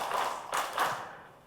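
An audience claps in a counting clap game at a Muhammadiyah Baitul Arqam training gathering: a few short, close bursts of hand claps spaced about half a second apart, fading out afterward.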